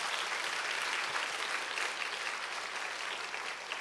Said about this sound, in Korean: 하나님께 영광의 박수 한번 올려드립시다.